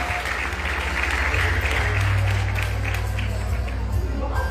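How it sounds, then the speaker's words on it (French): Audience at an institutional tribute ceremony applauds steadily, a dense sustained clapping from a crowd lasting the whole stretch, with a low hum beneath. "On vous applaudit s'il vous plaît"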